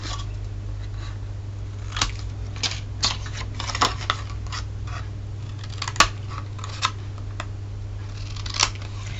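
Scissors snip the corners of a paper box at close range, a series of small crisp cuts and paper rustles over a steady low electrical hum.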